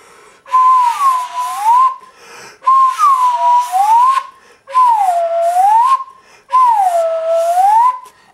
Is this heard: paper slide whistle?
yes